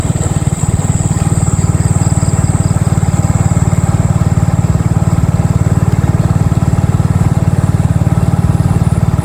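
A motorcycle engine drones steadily and loudly on a rural road in Isan, Thailand, with a constant low rumble and a thin high whine running through it, close and unbroken.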